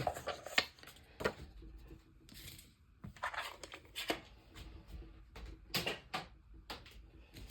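Scissors cutting a paper piece for a junk journal, a series of close crisp snips and paper rustles at an irregular pace, with short quiet gaps between cuts.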